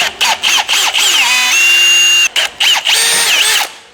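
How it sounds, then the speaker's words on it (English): Close, loud power drill working on a snowmobile, revving in quick bursts, then a sustained high whine, a brief pause, and more short revs before winding down. "Can I do this without drilling into my leg?"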